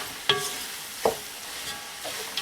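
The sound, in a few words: stirring pecan and walnut halwa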